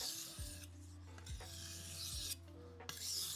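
A knife is sharpened on a sharpening stone with several close, gritty rasping strokes, each scrape separated by a brief pause in a steady back-and-forth rhythm.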